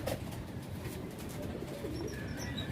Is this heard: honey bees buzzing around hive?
no